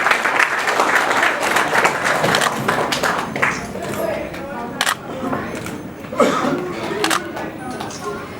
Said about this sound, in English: Please give a round of applause for the monthly winners.